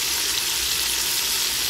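Carrots, onion and garlic sizzle in a hot Instant Pot, a steady close crackling hiss that holds evenly through the brief moment.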